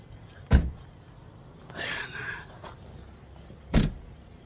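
Car being closed up, with a sharp door thud, a brief whir of power windows moving, and a second door thud, close and moderately loud.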